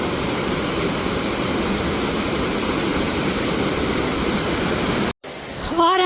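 Small waterfall in a dense mountain forest, a loud, close, continuous roar of rushing water that cuts off sharply near the end, followed by a quieter moment with a high whistling or chirping sound.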